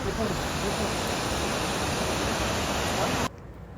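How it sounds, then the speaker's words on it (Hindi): A waterfall with fast, heavy water flow roars as a loud, steady broadband rush close by, cutting off abruptly near the end to a much quieter background. "और ये रहा वाटरफॉल, दूर से कुछ इस तरीके का नज़र आता है, और नीचे की तरफ जो फ्लो जाता है ना पानी का, काफ़ी ज़्यादा तेज़ है"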